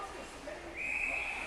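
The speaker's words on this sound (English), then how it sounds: "they'll whistle it for an icing" A referee's whistle blows for icing at a hockey game, a steady high tone that starts partway through and holds over crowd and arena noise.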